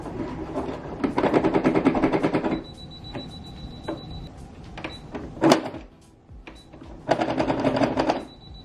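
A sewing machine stitching thick denim jeans, with close rapid bursts of stitching that start and stop several times, separated by pauses, clicks and a brief high tone.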